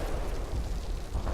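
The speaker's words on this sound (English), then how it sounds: "That looks like a bit of tank direct fire there" Tank direct fire in the Combat Mission: Battle for Normandy wargame, heard as a brief, heavy, rumbling blast with low booming texture, loud and continuous across the short moment, no voices.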